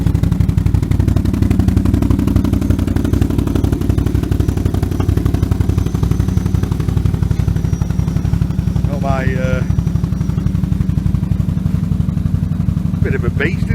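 A forklift truck engine runs loudly and continuously nearby, a dense rumbling drone with rattling texture, and a brief voice cuts in near the end.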